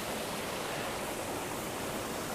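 Stormwater runs off and flows down into a small creek in a steady, loud rush of water. The sound is continuous and broad, with no talk over it.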